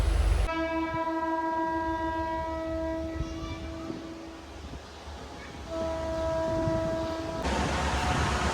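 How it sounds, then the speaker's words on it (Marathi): A train pulls out of Beed railway station with a long sustained horn blast, then a second horn later, over a low rumble of moving railcars heard from nearby. "रेल्वे आत्ता 1 वाजता गेलेली आहे बीडवरून नगरसाठी"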